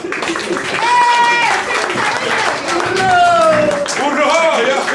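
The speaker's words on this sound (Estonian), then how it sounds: "Teeme aplausi siia." A crowd claps and cheers continuously at a men's folk dance celebration at a 50th birthday, with voices singing and shouting loudly over the applause throughout.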